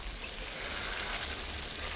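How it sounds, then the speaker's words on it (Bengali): Oil bubbling and sizzling steadily in a thick yogurt-based doi mrigel fish curry gravy, a close, continuous soft crackle with no talk. "তেলও সুন্দর ফুটে উঠছে আর গ্রেভিটাও অনেক ঘন হয়ে গেছে।"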